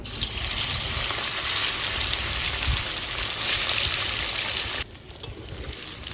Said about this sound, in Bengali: কড়াই তেলও কিন্তু খুব ভালো করে গরম হয়ে গেছে এবার এক এক করে চিকেনগুলো ভেজে নেব